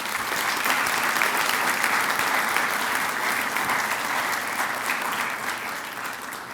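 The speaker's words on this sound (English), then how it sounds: "Graduates, I think you owe all these people a round of applause." A graduation ceremony crowd gives the graduates' supporters a loud, sustained round of applause, a dense, even roar of many hands that eases off slightly toward the end.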